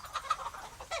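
Chickens cluck in a quick run of short, fairly quiet calls, with several bursts close together over a second and no voices.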